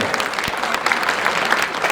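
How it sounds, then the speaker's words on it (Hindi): A large crowd at a religious gathering in Haridwar claps loudly and continuously, a dense, steady wash of many hands with no pauses. "अरे ताली जोर से बजाओ"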